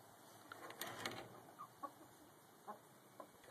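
Chickens cluck softly in scattered, short bursts against a quiet background, with a few louder clucks near the start.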